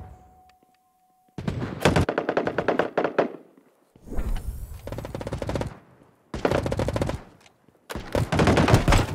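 Loud bursts of rapid SMG fire from a futuristic CS GO-style mobile shooter, four separate volleys of a second or two each with short silent gaps between them.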